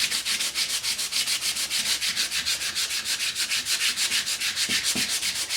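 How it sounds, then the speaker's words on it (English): Rhythmic back-and-forth scratching of sandpaper rubbing painted wood by hand along the grain, brisk and even strokes repeating steadily and up close. "I am sanding with the grain."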